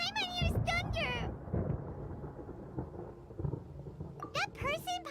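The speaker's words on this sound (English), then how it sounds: "Paimon hears thunder!" Thunder in the video game Genshin Impact rolls as a deep rumbling boom that builds and fades over several seconds. Voiced dialogue and character chatter sit at the start and end.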